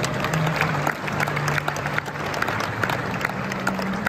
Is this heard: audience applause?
yes